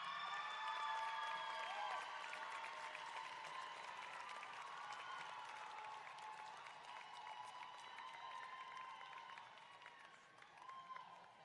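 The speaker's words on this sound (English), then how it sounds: "And with a very solid cheering section." A university convocation crowd applauds and cheers for a chemical engineering graduate, a steady wash of distant clapping in a large hall that continues throughout and fades slightly near the end.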